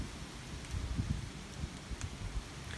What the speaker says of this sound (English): And that is rain, my children. That's going to be a cold rain